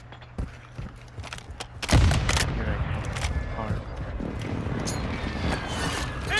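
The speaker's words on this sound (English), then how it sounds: "Precision airstrike inbound." Explosions and rapid gunfire from a precision airstrike in a shooter video game, a sharp loud blast followed by a sustained dense rumble of shots and impacts.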